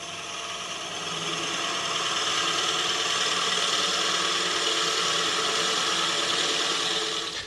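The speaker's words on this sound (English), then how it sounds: "I've got the lathe running at a shave under 600 RPM." A wood lathe spins a sycamore vase blank at just under 600 RPM while a tool eases into the wood, making a steady, close, broadband hiss-and-whir that holds evenly for several seconds with no talk.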